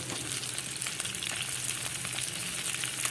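Potato, broad beans, pumpkin and eggplant fry in oil in a pan for a Malabar spinach dish, making a dense, continuous hissing sizzle with faint crackles, close and moderately quiet, with no voices.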